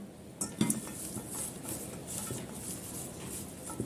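Close clattering and rustling of fresh green beans tumbling into a metal pot, with light clinks against the rim and a steady background hiss.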